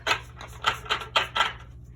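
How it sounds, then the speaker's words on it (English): A tarot card deck being shuffled by hand, giving a few quick papery riffling bursts in an uneven rhythm, close and fairly soft, with no talking. "shuffle it around a little bit"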